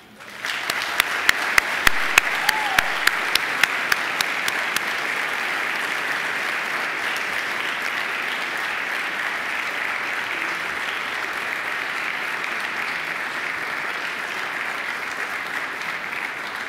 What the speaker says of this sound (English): heartfelt round of applause.